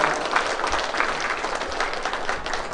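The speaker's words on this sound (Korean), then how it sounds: "다 같이 뜨거운 박수로 회장님 모시겠습니다." Audience applause greets the chairman of the Korean arts federation as he is invited to speak at an invitational masters' exhibition, a steady moderate wash of clapping with no voices over it.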